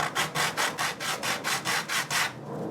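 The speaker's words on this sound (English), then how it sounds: "I'm going to just take some sandpaper and sand it down" Sandpaper rubs back and forth across a piece cut from an upcycled soda can in about eight even, rhythmic strokes, close and fairly loud, then stops.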